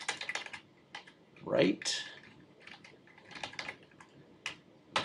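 Typing on a computer keyboard while writing JavaScript in a code editor: quick, light key clicks in short bursts, close by, with a voice talking over them.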